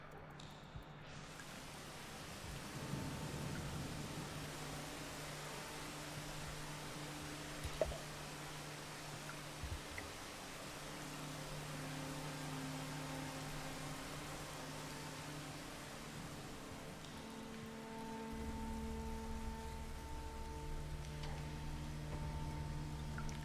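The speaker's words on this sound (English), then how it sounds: "I think I want to shelter here, just to get rid of the rain." Steady rain hisses in the video game Rain World, a broad constant wash of noise with low droning tones and rumbles shifting underneath, one sharp faint crack, and deeper rumble swelling toward the end.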